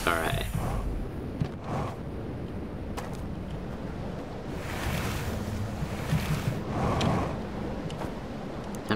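Rushing river water while whitewater rafting in Outer Wilds: Echoes of the Eye, a steady broad wash of surf-like noise with occasional surges, continuous throughout.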